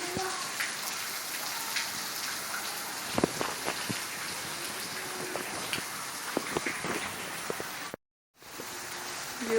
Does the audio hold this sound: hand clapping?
no